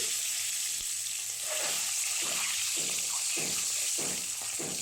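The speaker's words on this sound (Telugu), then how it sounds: "కొంచెం పసుపు యాడ్ చేసి ఎగ్స్ ఫ్రై చేస్తున్నాం." Eggs with turmeric fry in hot oil, giving a dense continuous sizzle with soft rhythmic bubbling pulses, steady and close with no voices.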